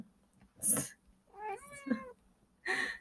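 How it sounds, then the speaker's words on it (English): A house cat meows nearby, giving one clear drawn-out meow with a rising then falling pitch, set between short bursts of noise and quiet in a home study setting. "The cat wants to join."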